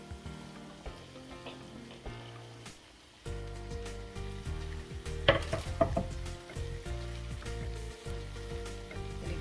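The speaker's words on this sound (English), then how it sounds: "Gonna give this a nice little stir while our rice is cooking" A veggie stew with green beans and mushrooms is stirred in a sizzling pan, a steady frying hiss with occasional scraping and clinks of the spoon against the pan, close and continuous.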